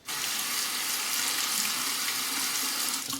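Tap water runs steadily into a sink as a razor is rinsed during a wet shave with an EZ Muhle R41 safety razor, a continuous close splashing hiss that holds for about three seconds.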